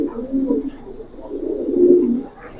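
Giribaz pigeons from the Palla line cooing, low throaty rolling coos close by, rising and falling in two main swells over a soft background.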